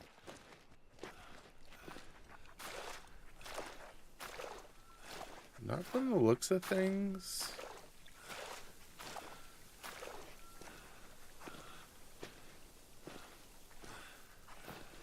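Footsteps crouching through bushes in theHunter: Call of the Wild, a steady series of soft rustling steps with a louder brushing burst midway, heard under someone talking.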